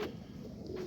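A pigeon gives a soft, low coo, a single short murmuring call heard up close in a quiet setting.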